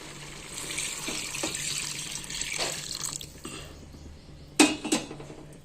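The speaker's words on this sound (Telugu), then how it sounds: "ఇప్పుడు మనం చింతపండు రసం పోసుకోవాలి." Tamarind juice pours into a cooking pot for a pappu charu lentil dish, a close liquid splash and trickle with soft clinks of metal utensils, ending in a couple of sharp pot knocks.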